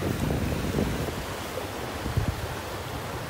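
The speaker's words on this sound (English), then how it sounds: "Nice little breeze coming from behind me right now." A steady breeze from the southwest rushes across a morning beach in North Naples, Florida, mixing with low surf and buffeting the microphone in a continuous roar.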